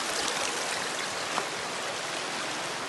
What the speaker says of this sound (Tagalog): Malakas nga lang yung agos.